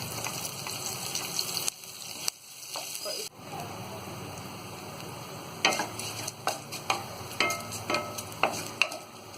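Chopped green chillies fry in a pan for Mumbai-style vada pav, a soft sizzle broken by sharp clicks and scrapes of stirring, with brief gaps and louder bursts toward the end.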